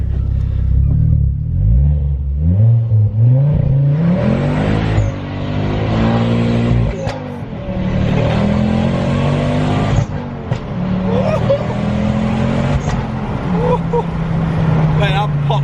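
A Ford Focus ST fitted with a Malian exhaust accelerates hard through the gears, engine note rising and dropping with shifts and sharp pops on lift-off, heard from inside the car with occasional talk.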